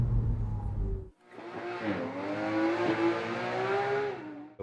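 Porsche 987 Cayman engine fitted with a Speedin Engineering induction system, a brief low idle, then a strong rising rev that holds a loud, sustained tone with slight pitch wavers before tapering off.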